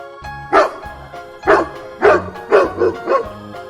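A dog barks in six sharp, close bursts, the first single and the rest in quicker succession, loud and alone without talk.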